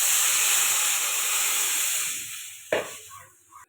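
Water poured into a hot pan of fish and cauliflower curry sends up a loud, steady steam hiss that fades over a few seconds, broken by a brief clatter near the end.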